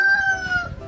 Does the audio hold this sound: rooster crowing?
yes